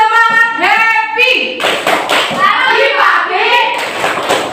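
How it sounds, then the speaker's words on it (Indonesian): A class of second-grade children claps and chants together in rhythm, a fast patter of claps running under their voices throughout. "Tepuk semangat happy."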